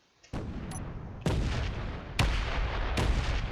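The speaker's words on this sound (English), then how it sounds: "Are my turrets hitting you?" Turret gunfire in the game Space Engineers: four heavy booming shots spaced about a second apart, each with a sharp attack and long rumbling tail.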